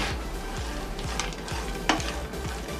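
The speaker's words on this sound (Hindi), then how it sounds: "इसे सेक लेंगे जब तक कि इसमें से अच्छी सी खुशबू आने लगे" Almonds, cashews, pistachios and raisins roasting in a pan, about two spoons of each, make a low sizzle under regular scraping stirs roughly twice a second, close and steady, with a sharper scrape near the end.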